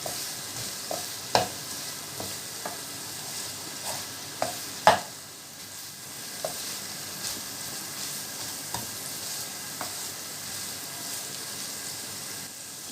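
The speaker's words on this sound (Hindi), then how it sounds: "अब इसको 3 से 4 मिनट अच्छे से इसको हम भून लेंगे।" Egg keema with mixed vegetables is stir-fried in a pan under a constant close sizzle, broken by regular sharp clicks and scrapes of a spoon against the pan, with no one talking.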